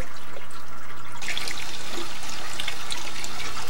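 Water drains from a fish tank into a bucket, a close splashing, trickling pour that grows stronger and louder partway through and keeps running steadily.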